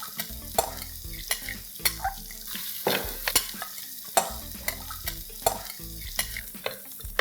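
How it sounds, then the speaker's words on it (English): Finely chopped onion sautés in a pan, a soft continuous sizzle broken by regular close scrapes and taps of a spoon stirring. No voices. "I'm going to add 1 onion that's finely chopped and we're going to saute this till it's soft"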